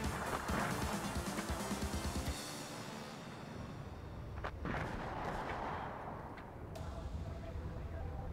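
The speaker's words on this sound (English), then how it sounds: "We've got a little bit of an artillery duel going on," Artillery duel in the WARNO wargame, with booming shell fire and rumbling blasts filling the first seconds, then fading into a dense low battlefield roar with scattered distant reports.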